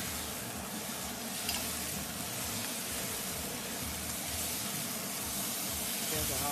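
Soy sauce hits stir-fried beef flat noodles in an auto wok, giving a steady, loud sizzle and hiss with stirring clatter underneath, unbroken from start to finish.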